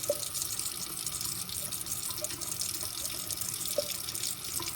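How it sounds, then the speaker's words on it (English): Running tap water splashes steadily into a sink while a borosilicate graduated cylinder is washed, a continuous soft rush with small clinks and drips, close and fairly quiet. "And of course, I wash it again thoroughly"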